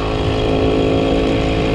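An old WSK 125 motorcycle engine runs steadily at a loud, droning idle with a rough, buzzing tone, close by and without pause.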